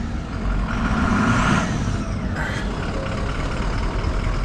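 A 1999 Dodge 3500 Cummins diesel engine running nearby, a rough low clatter that swells briefly as it revs, then settles back to a steady idle rumble.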